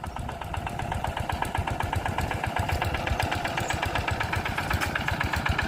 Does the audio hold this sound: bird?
no